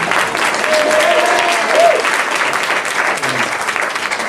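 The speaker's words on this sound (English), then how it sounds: "Let's have a big round of applause for our superstar, Joanie McGowan." Audience applause for Joanie McGowan at a library idea contest awards ceremony, loud and steady clapping from a crowd sustained throughout, with a brief tonal whistle or squeak near the start.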